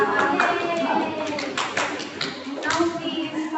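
Classroom applause for two students in a grade 12 high school microteaching lesson, a steady patter of many hands clapping across the whole stretch, with children's voices murmuring underneath.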